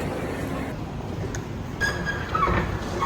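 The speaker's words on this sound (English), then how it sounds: "Oh, there's a metro." A metro train in Istanbul rumbles and rolls past, a steady, fairly loud rail noise with a few faint high squeals over a constant low roar.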